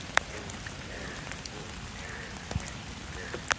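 Rain falls steadily in a home garden, a continuous wash of patter with a few sharp close drops striking near the listener, no talking.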